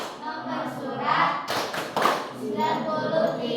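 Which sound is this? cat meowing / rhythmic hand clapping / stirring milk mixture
rhythmic hand clapping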